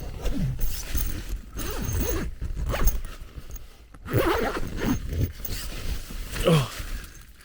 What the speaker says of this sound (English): The zips keep getting jammed, so it's actually jammed in the fly screen at the moment, and I can't get it open.